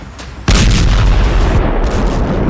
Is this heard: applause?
no